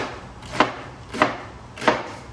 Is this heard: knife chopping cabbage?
yes